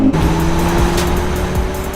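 A 2019 BMW 3 Series with a four-cylinder engine drives past, a loud steady engine drone with a faint tire whine, heard alone.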